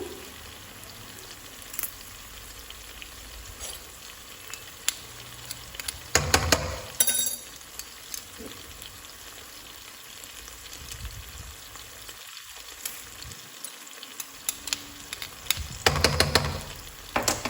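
Onion, garlic and stock cubes sauté softly in a pan for a tomato-tuna rice dish, a faint low sizzle punctuated by occasional clinks and brief stirring scrapes.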